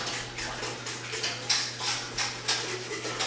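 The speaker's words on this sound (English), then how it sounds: "and I whisk this up" A whisk scraping and clinking against a pot as coquito mixture is stirred, a steady series of light metallic swishes with a faint low hum underneath, close and moderately quiet, no talking.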